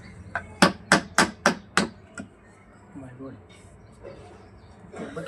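A hammer drives nails into a wooden plank on an iron horse stand: six sharp, evenly spaced blows in a quick run, close and loud, followed by quieter handling and a bit of talk.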